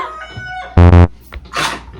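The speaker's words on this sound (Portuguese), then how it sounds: "Galo, por favor, agora eu tô gravando" Loud rooster crowing close by, one short, harsh cock-a-doodle burst in the middle, with faint background noise and a brief fluttery rustle afterward.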